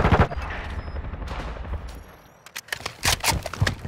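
Rapid gunfire in the Call of Duty: Modern Warfare II beta video game, with bursts of shots at the start, a lull, then several sharp close shots toward the end.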